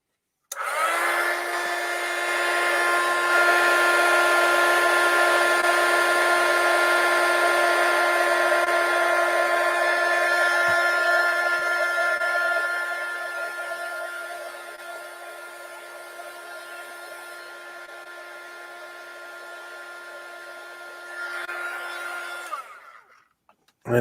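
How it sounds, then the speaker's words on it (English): A heat gun blows steadily to shrink heat-shrink tubing over a soldered wire joint, a loud continuous whooshing hum with a fixed tonal whine that softens midway and cuts off at the end. "So we can heat shrink this away."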